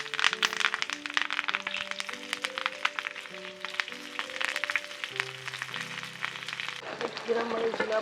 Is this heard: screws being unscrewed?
no